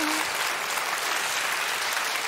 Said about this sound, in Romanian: Doamnelor și domnilor, aplauze puternice